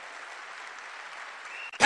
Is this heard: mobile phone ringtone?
no